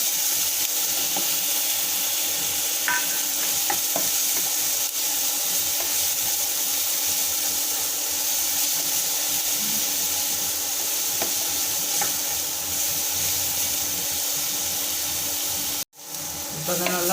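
Crushed shallots and garlic sizzle steadily in hot oil for an egg gravy, a loud, constant frying hiss with occasional stirring clinks, ending in a brief break.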